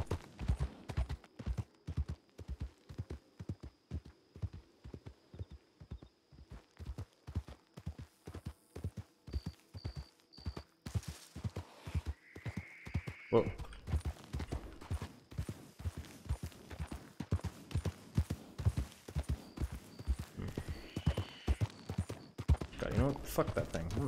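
Horse in a video game trotting with steady rhythmic clip-clop hoofbeats throughout, with a brief whinny partway through, while a person talks over it.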